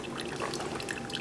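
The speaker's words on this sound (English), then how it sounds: "seeing the water, the coffee coming out" Coffee trickles out of a Cook's Essentials one-cup coffee maker in a soft, steady dribble that stays quiet and close throughout.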